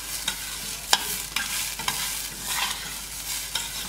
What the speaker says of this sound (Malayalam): അപ്പൊ നെയ്യിൽ ഒന്ന് വറക്കാം.